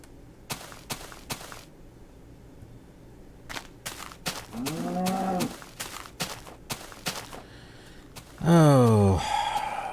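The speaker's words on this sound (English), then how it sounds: "There's a lone cow over there." Minecraft cow (Alpha 1.1) letting out two drawn-out moos, the second louder and closer, amid sparse footstep-like clicks and quiet game ambience.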